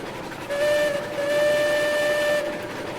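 A steam locomotive whistle in the train-driving game Railroads Online sounds in two sustained, clear tonal blasts of about two seconds in all, separated by a brief dip, over a soft background hiss.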